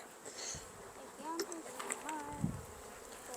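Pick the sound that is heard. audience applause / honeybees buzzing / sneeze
honeybees buzzing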